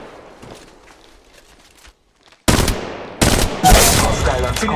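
Automatic weapon bursts in the Apex Legends Mobile shooter, loud and close after a quiet start of faint game ambience, firing in several sustained volleys of rapid shots.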